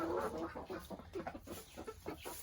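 Olive Egger and Barred Rock chickens in a backyard flock cluck steadily, short repeated calls overlapping in a close, busy rhythm during morning chores.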